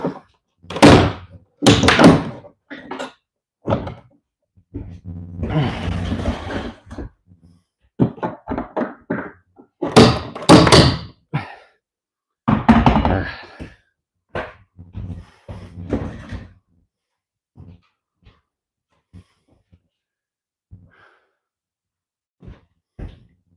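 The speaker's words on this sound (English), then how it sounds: "Try to get a better shot of me pulling this board out of here." Demolition work as a board is pried and pulled loose: a run of close, loud thuds, knocks and cracking bursts in irregular clusters, with scraping between them, fading to a few faint taps at the end.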